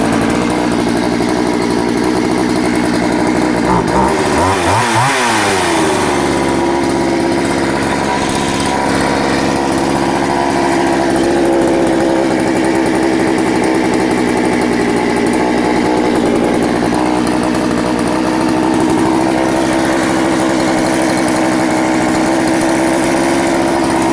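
A Poulan Countervibe 3400 chainsaw engine is yanked to life, then idles and revs loud and close in a steady, buzzing two-stroke drone that continues for over twenty seconds, with no talking.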